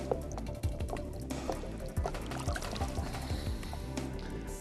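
Water splashes and trickles close by as a large northern pike is released from a boat, with repeated small sloshes and drips over steady outdoor noise.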